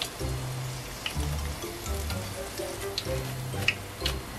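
Shrimp toast (menbosha) fries in oil over low heat, giving a steady soft sizzle and crackle, with low thumping sounds recurring underneath.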